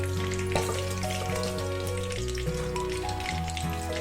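Chicken kebab pieces fry steadily in hot oil with a continuous close sizzle and crackle, an even bubbling hiss holding throughout while a low hum sits underneath.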